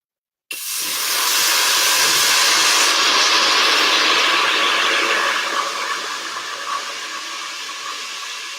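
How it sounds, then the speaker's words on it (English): A loud burst of sizzling hiss starts abruptly as water hits a hot pan and roars steadily, then slowly settles into a crackling simmer with no talking. "You ready for a sizzle?"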